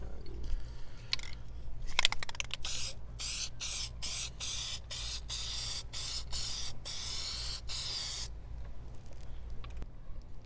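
A Plasti Dip aerosol can sprays emblem lettering in hot weather, giving a rapid series of short, loud hissing bursts with brief gaps, then a quieter stretch of background.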